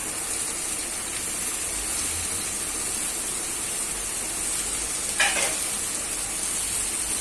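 Fenugreek leaves, stems removed, sautéing in a pan for methi pulao, giving a steady close sizzle throughout with one brief scrape of a spoon or spatula partway through.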